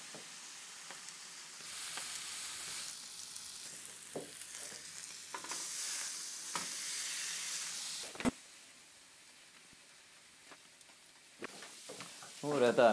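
Soybeans fry in a hot pan with a continuous bright sizzle and hiss, broken by stirring scrapes and clatters. The sizzle drops away briefly partway through, then returns.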